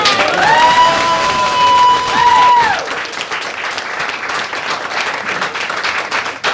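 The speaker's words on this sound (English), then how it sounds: "I think everybody needs to give them a round of applause." Loud, sustained applause and cheering from an audience thanking site volunteers at a gathering, with a few whistle-like cheers rising over the clapping early on before it settles into steady applause.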